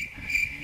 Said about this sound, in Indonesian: Ini jangkrik, cok